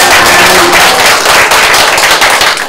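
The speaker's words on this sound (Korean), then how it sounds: "다시 한번 뜨거운 박수" Audience clapping after a two-and-a-half-hour lecture on a disability labour community, a dense, loud spread of claps filling the room steadily for a few seconds with no voices over it.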